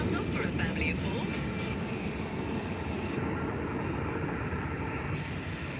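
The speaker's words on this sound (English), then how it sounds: "And we have a Jet2 Holidays landing right now as well." A Jet2 Holidays airliner lands at Faro Airport with a steady, loud broadband engine roar that holds evenly throughout, heard at a moderate distance.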